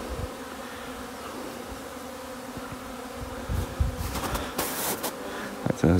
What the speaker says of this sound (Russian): Сегодня самые первые проснулись вот эти пчелы.